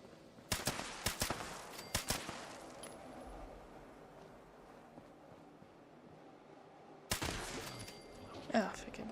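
Scattered bursts of gunfire in the lunar video game Moonbase Alpha, a few sharp shots near the start and another cluster near the end over a low steady hiss.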